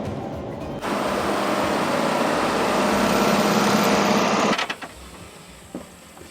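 A tractor engine drones steadily at high revs while it mows a dove field, loud and close. It cuts off sharply near the end, followed by a few faint knocks.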